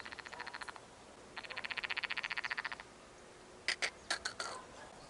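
Frogs croak in rapid pulsed trains near a pond while fishing for crucian carp, a short burst then a longer steady run, followed by several separate sharp calls, with no one talking.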